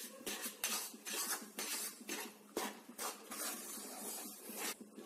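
A spoon scrapes and clinks against a pan while milk powder burfi mixture with sugar is stirred, giving steady repeated scraping strokes with small metallic knocks, close and fairly quiet, with no talking.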